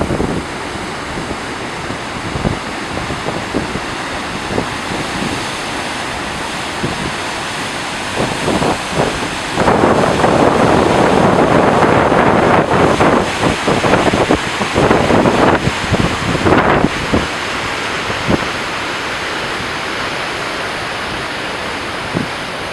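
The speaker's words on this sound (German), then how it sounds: "Godafoss Wasserfall." Godafoss waterfall in Iceland roars as a dense, steady wash of falling water, loud and close throughout, swelling in the middle with gusts of wind buffeting the microphone.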